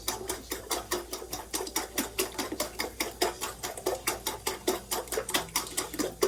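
Breakfast ingredients beaten in a bowl, a fast steady series of close clicking whisk strokes, rhythmic and even, with no talking.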